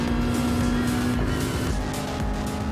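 A 1998 Honda Civic Type R (EK) engine screams at high revs in GT Sport around the Nürburgring, loud and steady throughout, with a brief shift in pitch partway through like a gear change.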